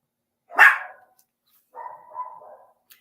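A dog lets out one sharp bark, then after a short silence gives a longer, lower whining bark-growl, both close and fairly loud in an otherwise quiet room.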